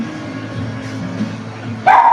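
Dogs at the house next door bark close and loud, a sharp burst rising out of steady background noise near the end.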